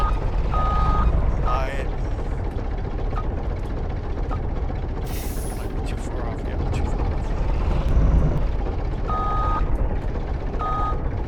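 A truck's reversing alarm in a farming video game on the Elmcreek map beeps in short bursts near the start and again near the end, underneath someone talking.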